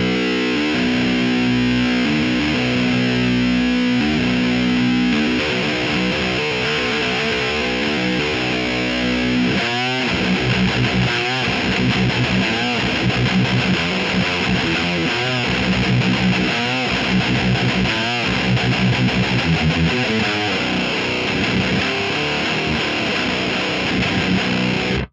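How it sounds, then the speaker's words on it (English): Electric guitar played through an STL Tonehub Overdrive 5 plugin modeling a Horizon Precision Drive: a loud, continuous distorted riff with chugging palm-muted rhythms and shifting chords, dense and close, with no voices. "Overdrive 5 seems to be modeling a Horizon precision drive"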